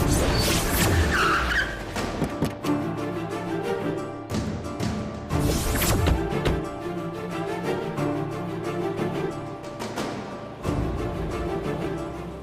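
A car revs and pulls away fast, tires screeching and skidding in several bursts with engine roar rising and dropping, loud and close over a dramatic scene.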